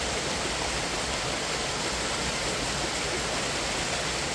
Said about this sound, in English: this is absolutely one of the easier waterfalls for you to get to